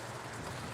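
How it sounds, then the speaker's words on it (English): Steady rain patters on a greenhouse, a soft, even hiss of drops with no voices, quiet and continuous throughout. "it's raining"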